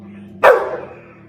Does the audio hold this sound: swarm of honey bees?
no